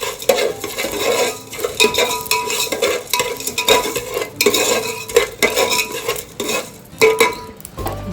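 Cloves and cinnamon frying in a pan for chicken curry, with a metal spoon stirring and scraping steadily and close, a light sizzle underneath, no talking.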